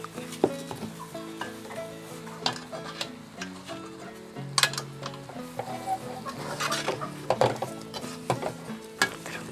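A spatula stirs and scrapes through onion masala with salt and turmeric for egg roast in a pan, uneven knocks and scrapes over a soft sizzle, with faint background tones and no talking.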